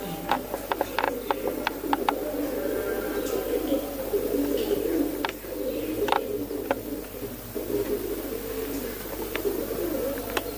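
A Rajan-line pigeon coos in low, soft calls amid steady ambient hum, with scattered sharp clicks and rattles throughout.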